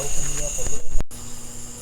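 Steady buzzing of honey bees during a trap-out from a tree fills the air, close and continuous, with a brief sharp break midway before the droning hum resumes.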